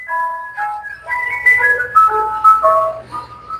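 An ice cream truck plays its jingle, a bright electronic melody of short repeating notes carrying clearly over a quiet background with no talking.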